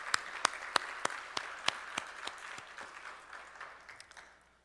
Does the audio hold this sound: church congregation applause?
yes